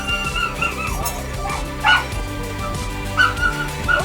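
Rescue puppies bark, yip and whimper in a busy, noisy space, with several short high cries and yelps rising over a steady murmur of background sound.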